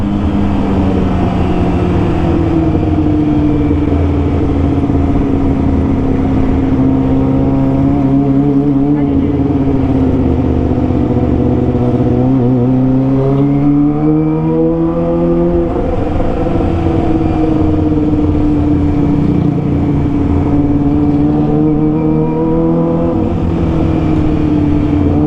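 A Kawasaki ZX25R motorcycle revs hard, rising and falling repeatedly in loud, sustained engine bursts, with background chatter and passing traffic mixed in.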